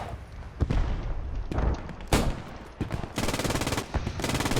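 Rapid machine gun bursts in the World War II shooter Post Scriptum, an MG 42 among them, crack out in repeated long volleys. Shots come near and far through the battle din, with a sustained stream toward the end.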